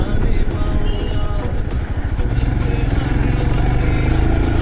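A Royal Enfield motorcycle rides along a mountain road in Sikkim past a landslide stretch. Its engine gives a loud, close, continuous low rumble throughout, mixed with road and wind noise.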